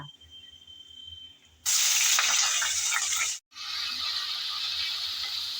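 Onion paste hits hot oil with cinnamon, cardamom and cloves for a yoghurt chicken dish, bursting into a loud close sizzle after a quiet start, breaking off briefly and then settling into a steady fry.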